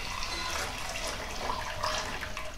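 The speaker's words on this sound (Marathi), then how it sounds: "आता यामध्ये आपण जे गरम पाणी करून ठेवलेलं आहे ते गरम पाणी टाकूया।" Hot water poured into a flour mixture for Khandeshi bibde papad batter, a steady watery pour that runs on through the whole short stretch at a moderate, even level.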